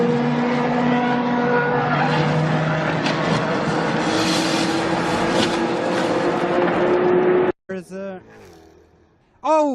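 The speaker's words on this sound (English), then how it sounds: "Oh, an impact! What a crash!" Race car crashing on a racing circuit at a 2019 motorsport event, with loud sustained engine roar and skidding tires, then a sudden break and a sharp impact burst, with a commentator's voice over it.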